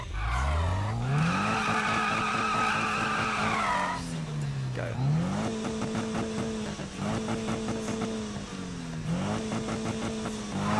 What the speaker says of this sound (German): So, dann wollen wir die Karre mal austesten.